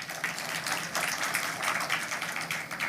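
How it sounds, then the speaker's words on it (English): An audience applauds judiciary staff at a formal State of the Judiciary address, a steady wash of many hands clapping close and continuous throughout with no voices over it. "I think you deserve a round of applause"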